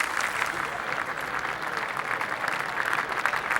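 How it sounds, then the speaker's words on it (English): Golf gallery at the Masters Tournament final round applauding steadily as two players approach the 15th hole, a continuous wash of clapping from a spread-out crowd at moderate distance with no voices. "and applauds as these two warriors approach the 15th"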